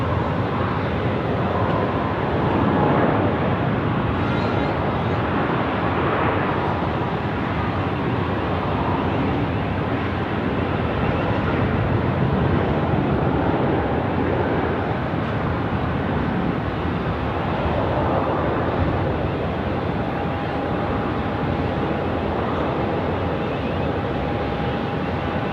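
A KC-135 climbs out after takeoff from Sydney Airport, a steady broadband jet roar that holds at moderate distance without letting up.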